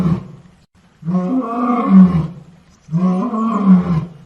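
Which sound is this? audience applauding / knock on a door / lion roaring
lion roaring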